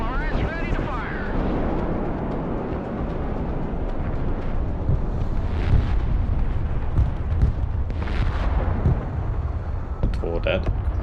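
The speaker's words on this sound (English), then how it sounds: "MLRS ready to fire" MLRS rocket artillery fires in the video game Broken Arrow, a steady, dense roar of launches and blasts that stays loud across the whole stretch, with a few sharper bursts rising out of the rumble.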